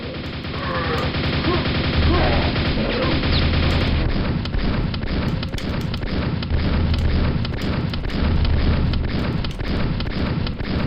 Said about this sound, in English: the speed that he racks that friggin' shotgun